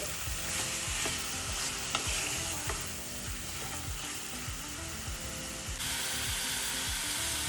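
Chicken pieces for a dhaba-style curry are tossed with salt and chili powder in a pan, heard as a rhythmic series of scraping stir strokes over a constant sizzle, close and without talk.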